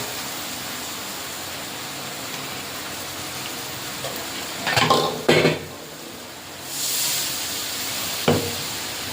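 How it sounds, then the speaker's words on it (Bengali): Water gets poured into frying spice masala in a pan while cooking chicken curry, giving a brief splash and sizzle amid metal utensil clatter and stirring, close and moderately loud. "এখানে একটু বান্না ধোয়ার জলটা দিয়ে দেবো।"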